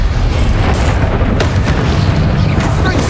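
A Confringo fire spell detonates in Hogwarts Legacy, a loud, deep, rumbling blast that stays heavy and continuous for the whole few seconds.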